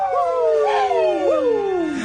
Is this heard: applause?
no